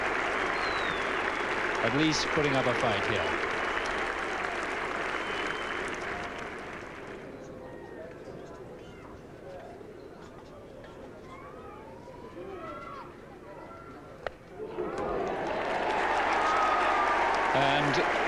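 A Yorkshire crowd at Headingley claps and cheers during a 1981 England v Australia Test match, loud applause that fades into a quieter stretch under commentary before a fresh burst of clapping returns.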